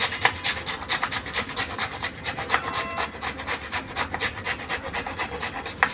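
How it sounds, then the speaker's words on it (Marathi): Blanched cauliflower is grated by hand in quick, even rasping strokes, each a dry scrape, repeating steadily and close up. There is no talking. "फ्लावरला दोन तीन मिनटं झाल्यावरती आपल्याला आता हे फ्लावर किसून घ्यायचं आहे"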